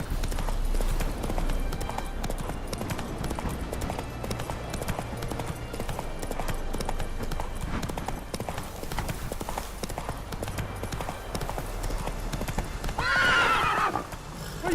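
The horse Roach gallops in The Witcher 3, hooves clip-clopping in a fast steady rhythm close by, with a whinny near the end and faint game sounds beneath.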